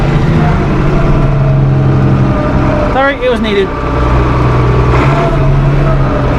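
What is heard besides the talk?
tractor engine running and revving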